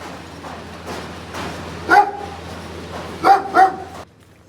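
A dog barks three times, a single bark followed after a pause by two quick ones, sharp and fairly close over low background hum.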